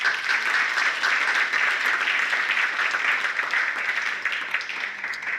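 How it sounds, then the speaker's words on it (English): At a veterans reunion banquet, an audience applauds with sustained, fairly loud clapping that holds steady and eases slightly toward the end. "Another big round of applause again for the San Diego Korean Pungmul Institute"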